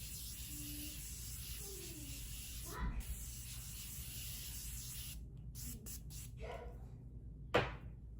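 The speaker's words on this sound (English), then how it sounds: "Gonna spray that bad boy." A steady hiss fills most of the clip, followed by several short, sharp bursts of Morphe Continuous Spray makeup setting spray near the end, close by.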